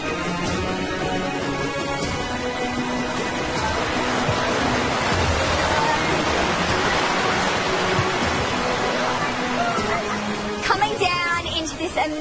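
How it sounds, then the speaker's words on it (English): A beautiful waterfall at a Survivor Australia location gives off a steady, loud rushing roar that fills the whole scene without letup. "Amazing location in front of a beautiful waterfall."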